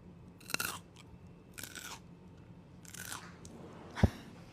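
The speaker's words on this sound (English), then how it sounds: "I'm gonna crunch again." Someone chews crunchy food, pieces of raw cabbage, outdoors in southwest Florida, making four separate close crunching bites spaced about a second apart, the last one the sharpest.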